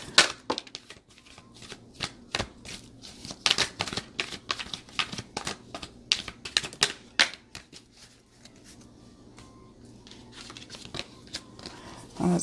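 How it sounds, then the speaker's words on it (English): Tarot cards riffled and shuffled repeatedly, a rapid run of crisp papery flicks and snaps in bursts close to the mic, with brief pauses between rounds and no talk. "I can shuffle the cards over and over again"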